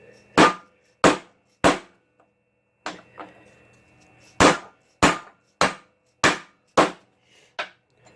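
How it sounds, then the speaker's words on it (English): A series of sharp, loud metallic hammer taps driving a bearing into an idler pulley of a 2011 Toyota Tacoma, mostly evenly spaced with a brief pause midway, each strike ringing out crisply with no talking. "So I'm gonna tap it in with the hammer."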